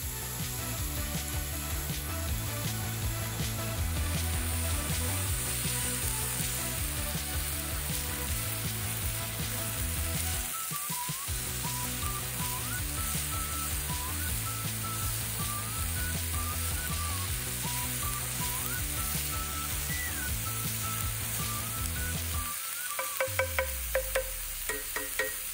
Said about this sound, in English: Get the onions sizzling hot while stirring, getting the olive oil all over those onions.